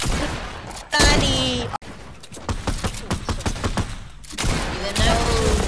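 Fortnite gunfire comes as a string of sharp, loud shots: several bursts separated by short gaps, with a rapid rattling volley in the middle.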